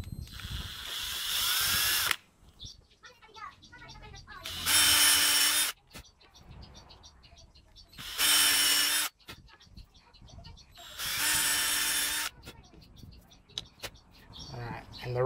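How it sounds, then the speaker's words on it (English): A power drill with a 3mm bit drills through a kitchen knife handle in four loud, high-pitched whirring bursts of one to two seconds each, close up, with quieter handling noises and talk in the gaps. "I've got a 3mm bit, and I'm just going to run it"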